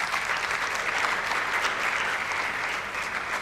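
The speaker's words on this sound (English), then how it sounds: "You truly deserve a big round of applause." Loud, sustained clapping from a large audience at a valedictory function, an even wash of hands that stays steady for the whole stretch with no voices over it.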